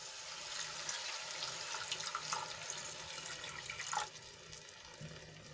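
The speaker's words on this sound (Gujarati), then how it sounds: "અહીંયા હું એક ગ્લાસ જેટલું પાણી એડ કરું છું" A glass of water pours into a pan of fried spice gravy, a soft continuous watery rush and splash that eases off near the end, with no talking.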